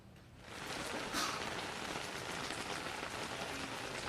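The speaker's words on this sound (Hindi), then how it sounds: "बारिश जो है लगातार बढ़ती जा रही है" Heavy rain pouring in Jaipur, a steady dense hiss of drops on surfaces that swells quickly after a quieter start and stays constant, with no voices.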